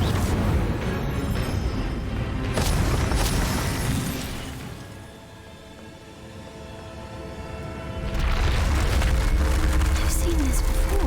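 An Incendio fire spell in Hogwarts Legacy bursts out with a loud roaring blast and crackle, fades to a quieter stretch, then erupts again with another forceful fiery rush.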